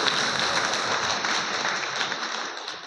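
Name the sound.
audience applause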